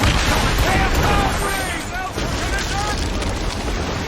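Ship cannons boom repeatedly during a naval battle in the video game Assassin's Creed Rogue, a dense, loud barrage of firing and splashes running throughout amid shouted commands.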